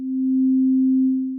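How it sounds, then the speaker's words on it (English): Steady pure synth sine tone shaped by a warming ADSR envelope, swelling gently up in volume, holding, then easing down, heard alone for about a second and a half. "It's going to look like a sound that slowly moves up in volume and then drops in volume."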